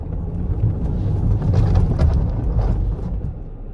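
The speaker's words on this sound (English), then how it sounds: "you'll hear the engine being cut, the power being cut while I'm trying to climb that bank" A Land Rover Defender climbing a hill bank as Dynamic Stability Control cuts engine power gives a steady, close, low engine rumble that swells slightly mid-way, with no talking.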